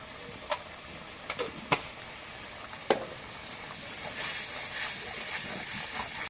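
Spice paste with turmeric and salt frying in a pan for a tomato sea fish curry, a steady soft sizzle with a few sharp pops and ticks of stirring, rising to a fuller hiss toward the end.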